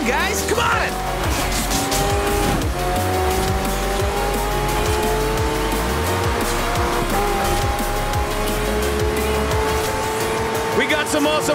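Hypercars and racing trucks roar past and skid in an open-world street race in Forza Horizon 4, with loud continuous engine drone, screeching tire squeals and a cheering roadside crowd, a commentator talking over it.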